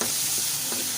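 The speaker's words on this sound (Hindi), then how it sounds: "लास्ट पे शुगर डाल के इसको थोड़ी देर के लिए अच्छी तरह से मिक्स कर दें ताकि शुगर जो है इसके अंदर मेल्ट हो जाए" Pumpkin halwa being stirred in a pan after sugar is added, a short burst of soft scraping and gentle sizzling, close and continuous with no talk.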